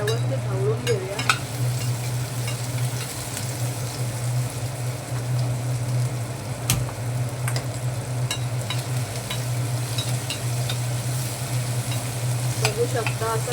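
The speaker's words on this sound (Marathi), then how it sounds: "आता सर्व आपण हे व्यवस्थित ढवळून घेऊया" Onion, tomato and curry leaves in a potato bhaji tempering sizzle loudly and continuously, with an underlying hum and occasional scrapes of a spoon stirring the pan; no voices.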